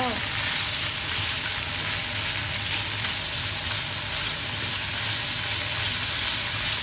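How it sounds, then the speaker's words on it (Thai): Garlic frying for a crispy chicken-and-garlic dish, a loud, dense, continuous sizzle close by that holds steady without a break. "แล้วก็กระเทียมค่ะเราก็ทอดไปเลย"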